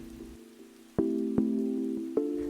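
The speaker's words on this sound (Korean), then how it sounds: "택시 타자 비가 오기 시작해요" Rain falling at night in Taipei, heard from inside a taxi: a steady wash of drops with a low engine hum, punctuated by a few sharp knocks, close and without talk.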